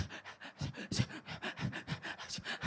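A voice imitates heavy panting, as if someone is out of breath. The breaths come fast and rhythmic, roughly a dozen in quick succession, close but fairly quiet.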